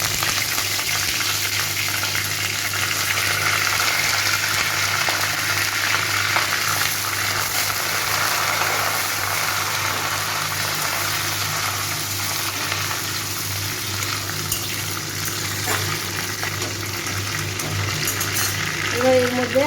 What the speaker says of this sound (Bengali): এবার আমি কারি পাতাটা দিয়ে দেবো।